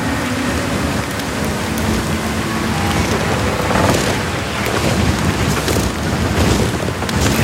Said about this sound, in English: Some shelter from this wind.